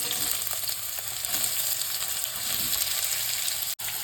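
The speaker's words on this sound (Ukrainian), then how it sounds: "Смажимо хвилин 3 на великому вогні." Continuous crackling sizzle of onion frying in a hot pan over high heat, steady and close, with a brief sharp click near the end.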